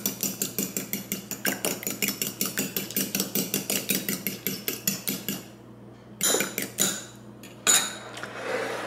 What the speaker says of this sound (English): grab the egg again. And so, just beat your egg